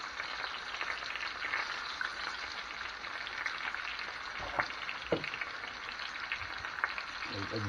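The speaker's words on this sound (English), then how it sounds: "Ooh, bonus sizzle." Chicken pieces fry and sizzle steadily in a Presto electric skillet with bacon fat and onion, a close, continuous crackle broken by a few sharper pops and a spatula tap as pieces are turned.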